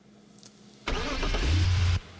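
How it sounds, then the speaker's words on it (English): A BMW 528i engine cranks and catches, settling into a loud, close, steady idle for about a second before the sound cuts off. "there is the BMW 528i engine startup"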